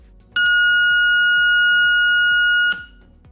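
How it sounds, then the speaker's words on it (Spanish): A loud, steady electronic tone from a signal injector probe plays through the speaker of a Nordmende 116A Clou radio cassette recorder, starting abruptly and holding for about two seconds before cutting off, with low background hum. "El sonido de la punta inyectora es fuerte y claro"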